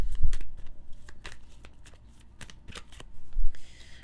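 A deck of tarot cards is shuffled close up in a run of quick, papery riffles and flicks, with a card drawn near the end. Nobody speaks over it.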